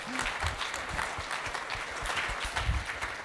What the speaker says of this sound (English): give Nisha a round of applause